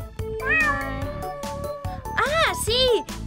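A cat meows loudly and repeatedly up close, with drawn-out, rising and falling cries over steady rhythmic background music.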